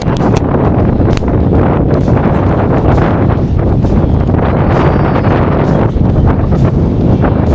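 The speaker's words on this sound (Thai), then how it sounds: "ช่วงนี้ก็ลมจะแรงหน่อยนะครับ" Strong wind buffets the microphone outdoors beside a fishing rod, a loud continuous low rumble with constant gusty buffeting and no clear speech.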